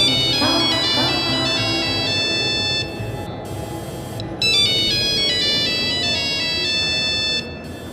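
A telephone ringtone plays loudly and steadily as a repeating electronic melody, with two short pauses, over background noise.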